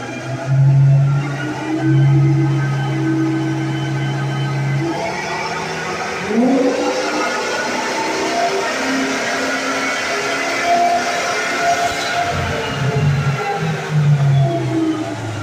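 Dauntless V10 Ford Excursion engine on a dyno pull, loud droning exhaust that holds steady, then climbs in pitch as the revs rise and fall through the run, with no voices.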